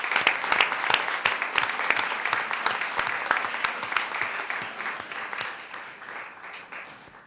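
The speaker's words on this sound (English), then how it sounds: "Let's give them all a round of applause." A room at a Board of Education meeting gives the high schools a round of applause: a steady, dense patter of many hands with crisp individual claps up front, sustained and then slowly tapering toward the end.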